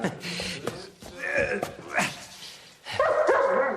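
A dog barks several times in short, sharp bursts mixed with yips and a whimper, close by, while people talk over and between the barks.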